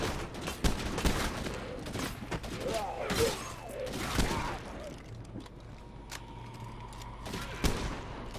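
Gunfire in the zombie survival video game State of Decay 2, bursts of sharp shots and thuds in an uneven rhythm over several seconds, moderately loud, with a voice talking now and then between them.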